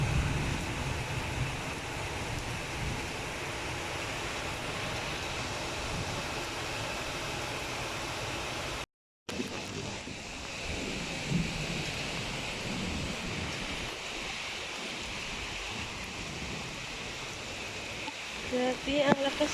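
Heavy rain pours steadily at night in Kuwait, a dense continuous wash with a brief dropout midway; no distinct thunder stands out.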